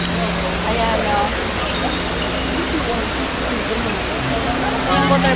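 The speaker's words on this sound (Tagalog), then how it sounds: "Yung waterfalls sa Dubai Mall." Indoor waterfall inside Dubai Mall, a steady broadband rush of falling water filling the whole space, with a busy crowd murmuring beneath it and a voice talking over the constant wash.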